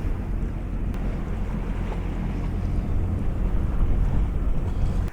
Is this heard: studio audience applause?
no